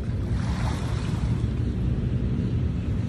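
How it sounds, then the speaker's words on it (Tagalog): Sea waves wash steadily toward the shore of Manila Bay, a dense continuous roar of surf mixed with gusts of wind on the microphone, with no voices. "Pag yung biglang lumakas yung alon"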